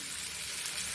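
Chicken pieces fry in melted butter with no added oil, giving a soft, steady sizzle throughout a brief moment, quiet and close.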